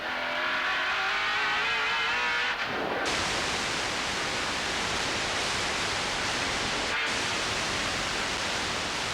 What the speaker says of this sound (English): check out how the big Commodore's going on the circuit